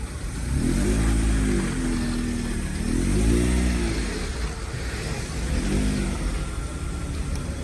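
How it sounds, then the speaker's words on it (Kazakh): Engine of a 2011 Lada Priora with a 1.6 injector revving in repeated rising-and-falling surges, loud and close, at a car market. "Эмо мотору мощный иштеп турат"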